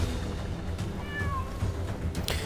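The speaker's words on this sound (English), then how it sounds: "I hear a cat in need of assistance." In LEGO Marvel Super Heroes 2, a cat meows a few times in short, wavering cries over a steady background rumble and ambient noise.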